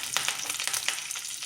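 Curry leaves, mustard seeds, cumin and urad dal sizzle in hot oil for coconut masala chitranna, a dense continuous crackling hiss close by with small popping spits throughout.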